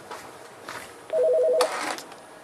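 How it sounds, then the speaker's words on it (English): A telephone chirps with a short electronic trill, one brief burst followed by a softer tail, heard fairly clearly over a quiet room. "Oh, we got a phone call."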